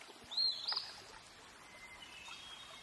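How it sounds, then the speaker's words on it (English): A hermit thrush calls twice from the distance, a thin rising note and a fainter follow-up, heard from a canoe on a river near a hydroelectric dam. "Yeah, hermit thrush."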